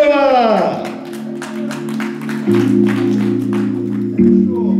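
An audience at a Gypsy-style birthday concert claps along to a backing track. Rhythmic, fairly close claps run under the music while a voice sings or talks.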